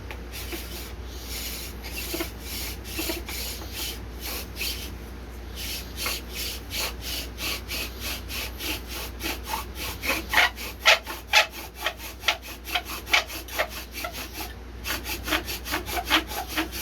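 Rhythmic wooden scraping and rubbing from a bow drill spinning on tulip poplar wood, steady strokes building in intensity, close up with no talking.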